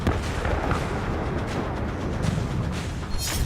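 A K9 Vajra self-propelled artillery gun fires, a heavy, booming blast with rumbling low-end noise that rolls on for several seconds, with a sharper crack near the end.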